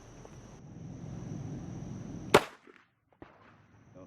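A single sharp gunshot from a SAR-9 pistol cracks at a shooting range during a concealed-carry class, loud and close, followed by a brief echo and quiet after.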